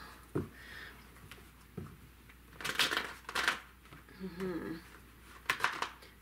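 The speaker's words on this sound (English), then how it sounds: "These do not want to shuffle." Tarot cards shuffled by hand, giving soft, irregular crisp riffles and snapping bursts, close and fairly faint, alone with no talking.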